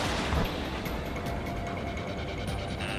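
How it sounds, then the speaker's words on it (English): In the air combat game Ace Combat 7: Skies Unknown, a missile launches with a loud, dense rushing roar that holds steadily for a few seconds. "missile fired"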